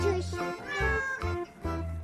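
A small cat meows repeatedly in a park setting, several clear, close meows spaced through the moment, with a voice and other people talking nearby.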